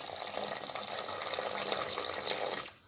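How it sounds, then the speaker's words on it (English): Water pours into a cooking pot holding male goat meat for a Nigerian pepper soup, a brief, continuous splashing stream that cuts off abruptly at the end. "I'll add in water,"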